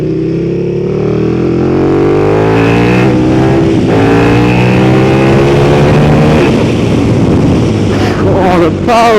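A Yamaha MT-09 or KTM Super Duke motorcycle exhaust roars loud and close, revving with rising and falling harmonic sweeps, a harsh angry note that swells and drops as the throttle works.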